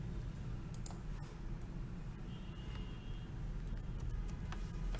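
A user name is typed on a computer keyboard, a faint scatter of light key clicks over a quiet background hum.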